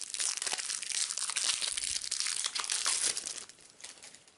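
Plastic wrap on a boxed Heroes of Tenefyr card deck crinkles and crunches close up as it is torn open, a continuous busy rustle that fades toward the end, with no talk.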